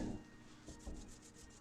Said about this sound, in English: So brushing on.